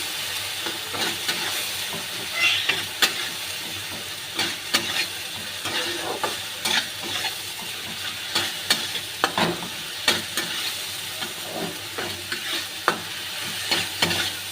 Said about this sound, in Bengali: এবার আমি কষে নেব।